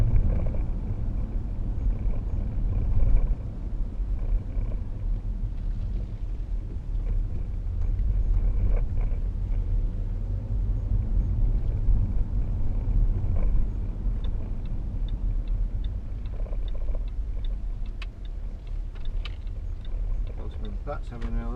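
A 2012 Range Rover Sport 3.0 SD V6 diesel pulls away, heard from inside as a steady low engine and road rumble that builds and holds throughout, with occasional faint knocks over it.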